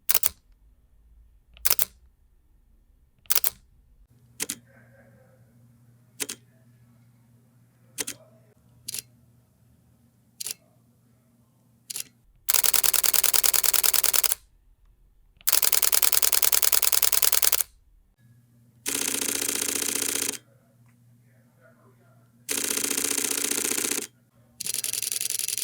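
Fujifilm X-T5 mirrorless camera shutter firing, first a series of single sharp clicks spaced about a second apart, then several long rapid bursts of continuous clattering shutter fire, loud and close.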